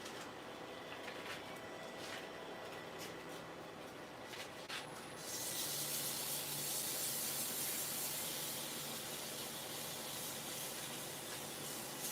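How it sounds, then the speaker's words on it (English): Steady abrasive rubbing of sanding wood with mineral oil, continuous and close, growing brighter and hissier midway through; no voices. "So I'm sanding with it because it's going to just have a food safe finish on it anyway."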